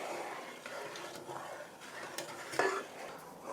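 A spoon scrapes and clinks around a pot while sugar is stirred into a home brew mixture, with soft irregular scraping and one sharper metallic clink, fairly quiet and close.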